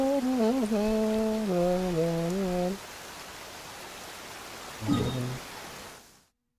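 Monsoon rain falling steadily in the Philippines, a soft even hiss that runs through the whole stretch, with a voice sounding tunefully over it at the start and a brief voice later.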